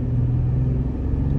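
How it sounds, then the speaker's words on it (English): A 2023 Toyota 4Runner TRD Sport accelerates at about half throttle, giving a steady, loud low engine rumble with a droning hum from inside the cabin, with no break in the sound. "We don't have to go too fast, about half throttle."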